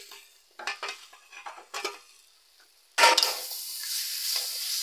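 Poppy seed paste stirred into a cooking pan with turmeric and vegetables, a few scraping stirs followed by a steady louder sizzle as it hits the hot pan, close by with no talk.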